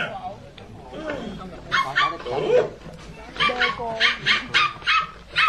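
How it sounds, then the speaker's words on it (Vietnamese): Cartoon dog barking in a Doraemon household scene, a series of short yips repeating in a quick rhythm near the end, close and fairly loud, following stretches of people talking. "con chó này ở đâu ra vậy"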